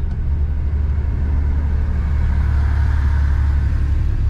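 Heavy, steady low rumble of road traffic heard while riding a 400cc scooter through congestion, continuous and loud with no voices.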